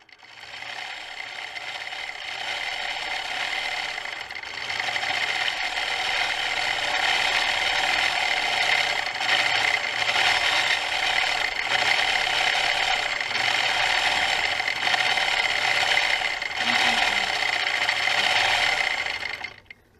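A longarm quilting machine stitches a pantograph pattern in a continuous, even mechanical whir and rapid rhythmic clatter that holds steady for the whole stretch and cuts off at the end.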